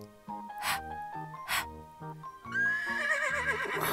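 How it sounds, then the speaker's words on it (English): A horse neighs in a children's alphabet lesson: a loud, wavering whinny fills the second half of the clip, after a short stretch of bright musical tones. "Horse."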